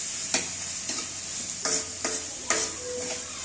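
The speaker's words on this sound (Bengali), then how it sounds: "লবণ দেওয়ার পর এগুলোকে আবারও ভালোভাবে নাড়তে থাকি" Onions and chillies with salt stirred in a pan, the spatula scraping in a few distinct strokes over a steady, fairly quiet sizzle.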